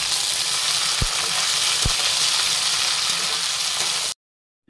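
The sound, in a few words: chopped tomato frying with onions in pan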